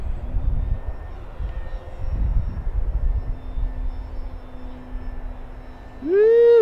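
Radio-controlled FMS J-3 Piper Cub float plane flying outdoors on a windy day, its small electric motor a faint steady drone under wind noise, swelling suddenly into a loud rising buzz near the end as it powers up for takeoff.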